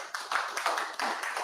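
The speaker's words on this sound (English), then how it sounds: "Please, let's get another round of applause for Steve." Quiet, brief clapping from a small audience at a PHP Sussex developer meetup, with a handful of irregular claps over a second and a half.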